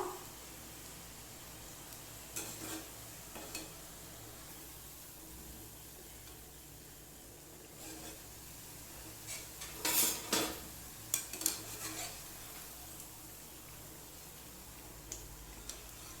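Ribbon pakoda fries in oil over a low flame with a quiet, steady hiss, broken by a few soft clinks and stirring scrapes of a metal utensil near the middle.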